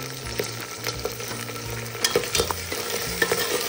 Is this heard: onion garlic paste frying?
yes